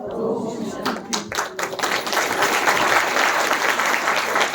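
A gathered audience at a spiritual class breaks into applause, starting with a few scattered distinct claps that build into loud, dense, sustained clapping, with a voice heard briefly at the start.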